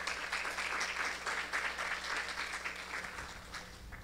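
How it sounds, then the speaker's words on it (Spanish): Audience applause at an international pharmaceutical bioequivalence course greets invited speakers: even, continuous clapping from a roomful of attendees, moderately distant and fairly quiet, thinning slightly near the end. "Un fuerte aplauso."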